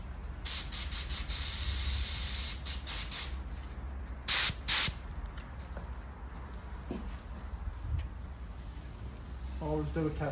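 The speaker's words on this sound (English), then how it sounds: "Always do a test spray first, make sure your spray gun's spraying properly." A mini jet spray gun does a test spray while a car bumper repair is being painted. Several bursts of loud hiss sound nearby, some long and some brief, with quieter background noise between them.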